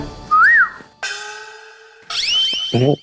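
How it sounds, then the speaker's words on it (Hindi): A comedic whistle blown for an uncle in a Hindi sitcom scene, rising in short sliding tones, then a long steady high tone, then a wavering tone ending in a brief buzzy burst, loud and clear with no talk. "खाली चाचा जी को अच्छा लगे इसलिए सीटी बजाई"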